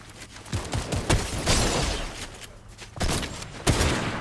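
Sniper rifle shots in Fortnite ring out as several sharp, loud cracks in irregular bursts over game background noise, with no talking.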